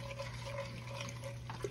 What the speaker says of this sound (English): we're gonna add a little water to this